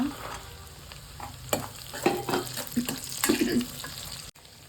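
Onions frying in a pan with a little salt, a steady sizzle broken by several stirring scrapes and clatters at close range, with no talk over it.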